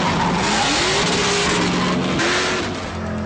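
Several high-performance GM cars and trucks from Fast & Furious 4 drive past loudly, engines revving and accelerating with a sustained roar, rising pitch sweeps and brief tire squeal, with no talk over it.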